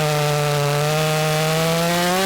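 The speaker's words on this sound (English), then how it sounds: "we prioritized the use of Daniel's long chainsaw to cut out a few sections of the trunk." A long chainsaw cuts sections from a tree trunk outdoors, a loud steady engine drone running continuously at close range.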